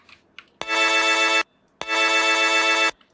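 Dry looped vocal saw sample with no effects, two sustained buzzy bursts with a brief pause between, preceded by a couple of faint short blips.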